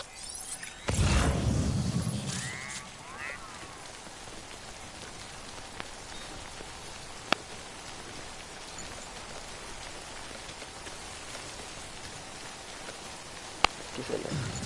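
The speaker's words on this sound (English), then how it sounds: "Don't stay out in the rain any longer than you have to." Steady rain patters throughout in the Death Stranding video game, a constant hiss of falling drops. A heavy splashing burst comes near the start, and a few faint sharp ticks sound later. Nobody speaks.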